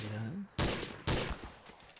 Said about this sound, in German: Er schießt wieder.